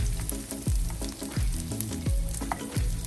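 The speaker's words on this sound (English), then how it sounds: "I'm just gonna saute this for like" Two small diced shallots with garlic sauté in a pan for seafood lasagna, a close sizzle broken by regular, rhythmic stirring scrapes across the short stretch.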